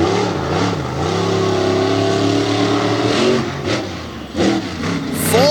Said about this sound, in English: Full throttle through the moguls.